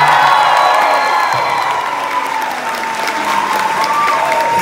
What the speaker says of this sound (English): can we have another massive round of applause